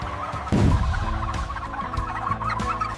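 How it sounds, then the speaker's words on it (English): Live turkeys being gathered into transport modules for a processing plant cluck and gobble in a close, noisy jumble, with a loud burst early on and overlapping calls throughout. "the turkeys are carefully gathered and conveyed into specialized modules, which transports the live birds to the processing plant"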